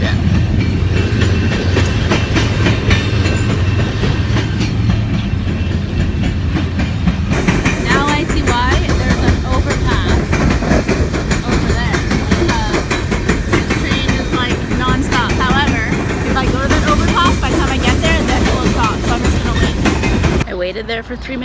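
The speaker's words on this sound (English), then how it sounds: "I wonder how often they even have trains." A train rumbles past close by in Kamloops, wheels clattering rhythmically over the tracks with squeals and a heavy continuous roar that cuts off at the end.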